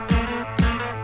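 A snare drum struck with its snares switched off gives two round, booming hits about half a second apart, each ringing out like a tom. Close and clear, with no voices.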